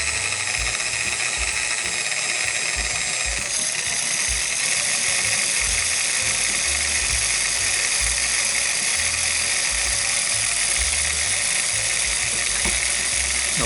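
A Sunbeam MMA stand mixer's motor whirs steadily with a bright, high-pitched whine and a low rumble underneath, shifting slightly partway through as the speed is turned down, with no talking.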